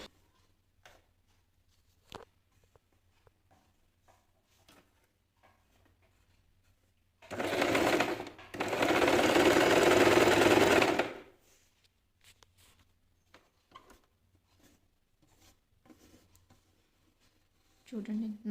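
An Usha Janome sewing machine running a normal straight stitch in two bursts, a short whir then a steady, louder mechanical hum for a few seconds, with quiet ticks and handling noises around it.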